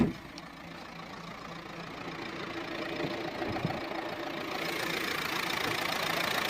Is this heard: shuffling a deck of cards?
no